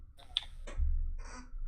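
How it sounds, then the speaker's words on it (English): Xbox controller buttons, including the shoulder bumpers, clicking in a few quick taps close up, with low background hum. "Yeah, that's the sound of an Xbox controller."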